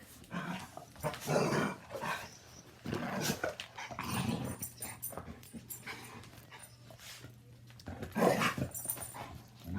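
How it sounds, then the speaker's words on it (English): Two dogs, Molly and Maggie, play together indoors with scattered growls, huffs and panting in uneven bursts, fairly close and moderately loud, with a low steady hum underneath. "these doggies are messing around"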